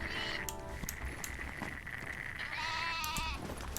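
Sheep bleat in the Black Desert game during life-skill sheep hunting, a couple of wavering calls near the start and another clearer bleat toward the end, set over a steady low background.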